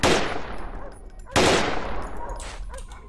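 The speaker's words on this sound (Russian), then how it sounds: "А это, уважаемый, гранаты." Two heavy grenade blasts in the shooter game Underhell, each a sudden loud boom that rolls off into a long fading rumble, about a second and a half apart.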